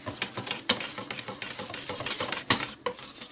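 A mixture being stirred in a bowl while baking a cake, with repeated clinks and scrapes of a utensil against the bowl in an irregular rhythm, close and fairly loud, without talk.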